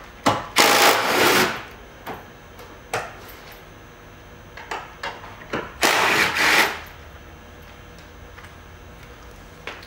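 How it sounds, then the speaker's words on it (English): An impact wrench zips loose the front 14mm seat bolts on an MR2 during a seat swap, with two long loud rattling bursts and several shorter hammering pulses separated by quiet pauses. "So we're going to use our impact here."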